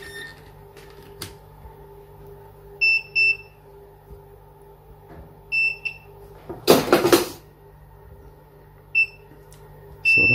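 A multimeter beeps while a fuse taken from a fuse spur for a Biasi Riva HE boiler is checked for continuity, giving several short, clear electronic beeps in pairs, with a brief loud rustle midway.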